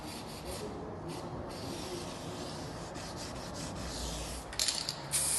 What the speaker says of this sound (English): Lightly sand over the repair with some 320 grit sandpaper.